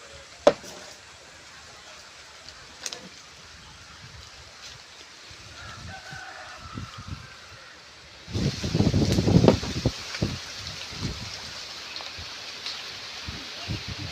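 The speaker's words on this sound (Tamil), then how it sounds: "சாயந்தரம் நேரத்தில் இந்த மாதிரி நிலத்தில் சாப்பிட்றது சுகமே தனிங்க பயங்கரமாக காற்றடிக்குது" Gusts of wind rise suddenly partway through, rushing and rustling loudly through tree leaves in an evening field after a quieter stretch with faint scattered sounds and a distant bird.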